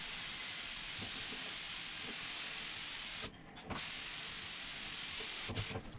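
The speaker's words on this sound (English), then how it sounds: "I'm going to spray them anyways" Continuous hiss of a spray gun applying finish to cabinets, running steadily close by, with two short pauses where the spraying stops and restarts.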